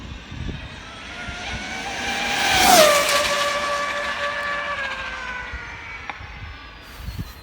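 An Arrma Infraction RC car on a speed run screams past, its high-pitched motor whine rising to a sharp peak as it passes close and then dropping in pitch as it fades away.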